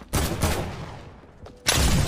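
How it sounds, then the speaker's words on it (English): AK assault rifle fire in the Fortnite video game comes in two sharp, loud bursts of rapid shots, the first fading out before a second burst starts near the end. "Oh, is this an AK?"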